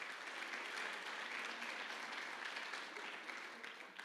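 A congregation claps steadily in applause at a church service, a dense continuous patter that holds throughout and tapers slightly at the end.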